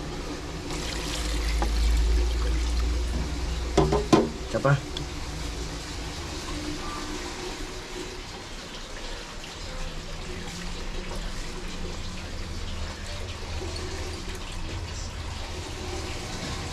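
Water trickles and pours into a cooking pot, a steady close running stream with a few clunks near the start, while someone speaks briefly over it.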